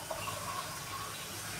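Water being poured into a cooking mixture of tempered buttermilk curry, a steady close gushing and trickling stream that runs the whole time without pause, with no talk.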